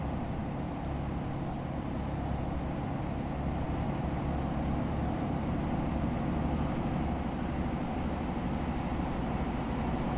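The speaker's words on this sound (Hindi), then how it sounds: "जैसे कि रियल में ट्रक चल रहा है इस तरह से आवाज़ आ रही है इसके अंदर" Continuous heavy engine drone of an Ashok Leyland heavy truck carrying a load in Euro Truck Simulator 2, even and unbroken for several seconds, with a faint high whine running through it; no one speaks.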